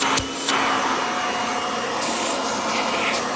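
A Kirby vacuum cleaner runs with a steady, loud motor whine and rushing airflow, with a couple of brief knocks near the start and no voices.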